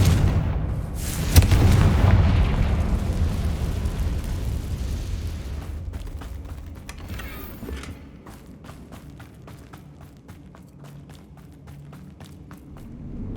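A Confringo blasting spell from the Hogwarts Legacy video game goes off as a loud, booming explosion, then rumbles away into scattered crackling debris and quieter game ambience.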